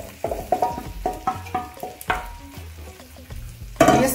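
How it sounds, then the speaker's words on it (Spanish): Pasta carbonara with egg, parmesan and cooking water is stirred vigorously in a pan, a quick rhythmic run of wet scraping, clacking strokes over a light sizzle, ending in a louder burst. "En este momento vamos a empezar a revolver muy bien."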